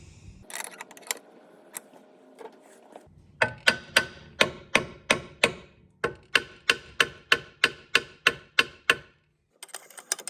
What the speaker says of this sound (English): then we'll tap it with a hammer, and it should drop this